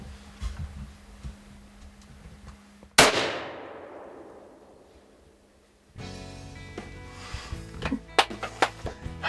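A single loud rifle shot rings out while deer hunting in Michigan, cracking sharply and then echoing away into quiet, with faint rustling before it and clicks and handling noise afterward.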